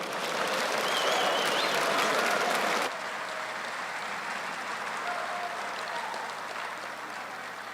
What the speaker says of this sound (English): Please join me in one more round of applause for the General.